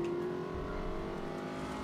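Cars driving in the video game The Saboteur, with a steady engine drone and a sustained tonal hum at one level, heard alone without talk.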